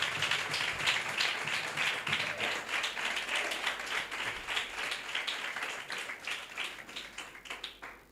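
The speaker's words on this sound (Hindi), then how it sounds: "तो फिर सच्चाई के लिए जोरदार तालियां" An audience at a church gathering claps loudly and continuously for several seconds, a dense, even patter of many hands with no voices over it.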